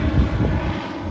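An aircraft engine drones loudly at an air show in Ayr, a steady, heavy propeller-plane rumble with slight swells in level and no voices.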